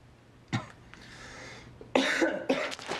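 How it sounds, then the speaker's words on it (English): A man coughs in a basement, a sharp single hack followed a second later by two harsh, throaty bursts close by. "Your cough is annoying me."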